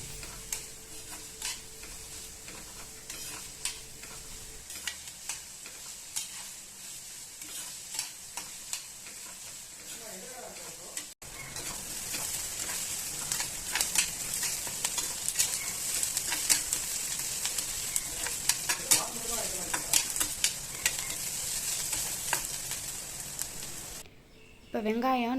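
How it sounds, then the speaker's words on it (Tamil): A big sliced onion sautés in hot oil with cloves, cardamom and fennel for a goat boti gravy, a steady close sizzle with spoon stirring and scraping that grows louder partway through. "பெரிய வெங்காயம் அதை நல்லா ப்ரௌன் ஆகிற வரைக்கும் நல்லா வதக்கிக்கலாம்."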